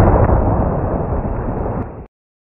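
A loud, booming explosion sound effect for a Pokémon Electrode blowing up, a dense rumbling blast that holds for about two seconds and then cuts off abruptly.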